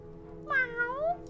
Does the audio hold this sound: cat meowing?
yes